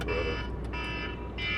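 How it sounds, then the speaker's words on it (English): A phone alarm ringing inside a parked car, a steady electronic tone repeating in bursts with short gaps, loud and close over a low cabin hum. "that's my alarm from my dentist"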